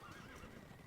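A horse whinnies once in the video game Stronghold Crusader, a short, quiet neigh with a wavering pitch and faint hoof clatter beneath it.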